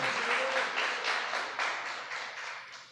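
A church congregation applauding, a dense, fairly loud wash of many hands clapping together that swells in waves and fades toward the end.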